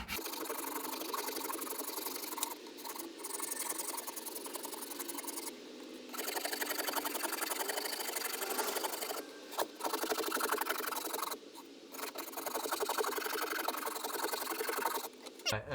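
A rasp files the profile of a hard maple Telecaster guitar neck, a continuous close gritty rasping of rapid strokes that carries on with only brief pauses.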